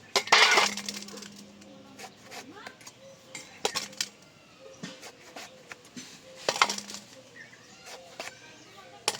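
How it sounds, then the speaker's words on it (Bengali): A knife cuts a tender young eggplant into medium-thick pieces in a home kitchen, making a series of crisp taps and clicks on a board at an irregular rhythm, some loud and close, others soft. "এবার বেগুনগুলো পিস করে কেটে নেব।"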